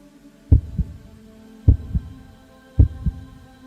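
Three slow, heavy heartbeats, each a deep double thump, evenly spaced over a low steady hum.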